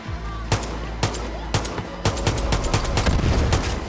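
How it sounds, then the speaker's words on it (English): Pistol shots in the video game Far Cry New Dawn ring out as a rapid series of sharp cracks, several spaced about half a second apart, then a denser flurry of gunfire over a steady rumbling backdrop of combat noise. "I'm lining her up with the new pistol."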